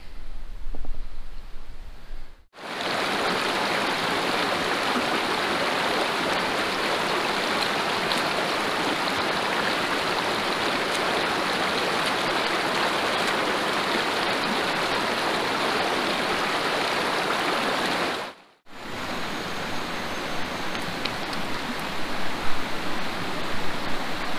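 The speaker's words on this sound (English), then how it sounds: "Ah, the old creek's starting to change now. Starting to get a little bit rougher." Rushing mountain creek water, running rough, roars steadily in a dense, unbroken wash of noise, cut by two brief silences where the sound drops out.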